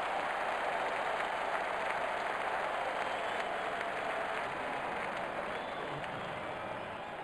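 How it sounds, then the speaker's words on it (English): Cricket stadium crowd at a T20 match between India and Hong Kong applauding steadily, a broad, dense wash of clapping and cheering that holds at an even level throughout. "The stadium applauds."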